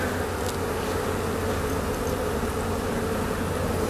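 Arataki honey bees hum in a dense, continuous buzz close to the hive, a steady swarm drone that stays level throughout with no voices.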